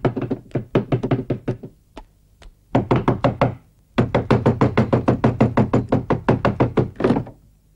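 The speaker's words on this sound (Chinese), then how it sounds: "敲一遍就行了" Knocking on a door: a long series of rapid, loud knuckle raps in several bursts with short pauses between them, close by and with no one talking.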